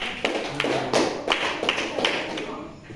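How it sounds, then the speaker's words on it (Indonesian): Classroom students at a junior high school clapping for group 2 during a lesson on prayer, a handful of hand claps landing in an uneven rhythm of roughly seven distinct beats, close and moderately loud. "Tepuk tangan kelompok 2 dulu ya."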